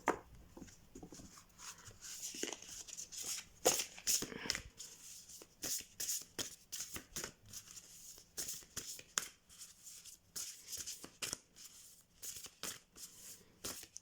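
Oracle cards from a zodiac-themed deck being shuffled by hand, a soft papery riffling and sliding that runs steadily throughout, with occasional sticking as the cards catch, close to the mic while someone speaks intermittently over it.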